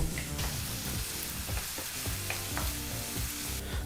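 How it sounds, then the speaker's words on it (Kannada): Chopped onions fry in hot oil in a pan over a medium flame, a steady close crackling sizzle with occasional stirring scrapes throughout. "ಈ ಈರುಳ್ಳಿನೆಲ್ಲ ಚೆನ್ನಾಗಿ ಫ್ರೈ ಮಾಡ್ಕೋಬೇಕು"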